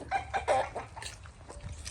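Roosters cluck and murmur nearby while eating pumpkins, in a loose, uneven series of short calls over faint background noise.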